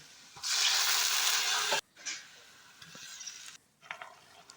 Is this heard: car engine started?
no